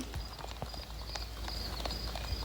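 Horse hooves clip-clopping at a steady walking pace while riding along a path in the video game Horse Valley, quiet rhythmic knocks over a soft background hum, no talking.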